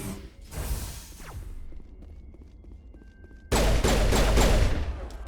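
Kessler pistol fire in the Mass Effect video game, a burst of loud, dense shots cutting in abruptly after quieter scuffling and movement sounds, with no talking.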